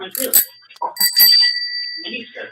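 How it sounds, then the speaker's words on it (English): A bicycle bell is rung twice, its bright metallic rings cutting through a voice talking nearby. "Hey, Dino, you can ring my bell."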